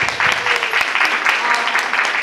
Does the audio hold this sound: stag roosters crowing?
no